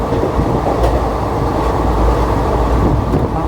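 Tirupathi Express 16053 on the Chennai to Tirupathi run, heard as a continuous heavy rumble of fast-moving coaches with faint clickety-clack of wheels on rail joints, close and steady throughout.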